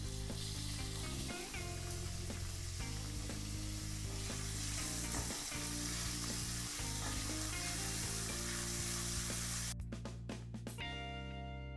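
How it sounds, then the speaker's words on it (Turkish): Meat sautés in a tablespoon of sunflower oil in a hot pan, giving a steady, loud sizzle and crackle that runs on without pause. "Etim soteleniyor."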